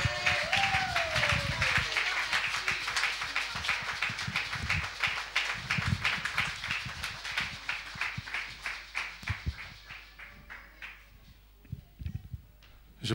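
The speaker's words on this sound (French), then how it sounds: "Acclamons pour la parole de Dieu." A church congregation at a worship service claps together for the word of God, a dense, steady wave of applause that thins into scattered, rhythmic claps toward the end, with some cheering and voices mixed in.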